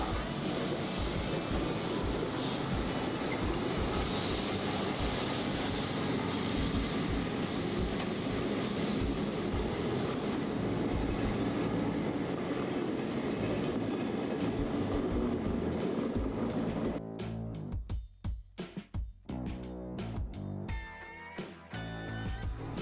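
A vintage steam train runs along the line in Australia, a steady, loud rolling rumble with broadband rail noise that drops into choppier, rhythmic clatter near the end.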